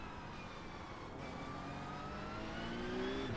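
A Porsche 911 Cup (992.2) engine in a racing video game at Suzuka keeps up a steady, loud mechanical drone through a downshift. Its pitch climbs sharply near the end, with no voices over it.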